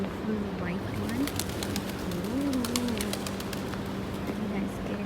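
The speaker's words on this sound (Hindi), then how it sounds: "कितने प्यारे कबूतर यहाँ पर बैठे हैं," Pigeons, including a white one, cooing in low wavering calls repeated several times close by, with faint chirps and someone talking quietly over steady background hum.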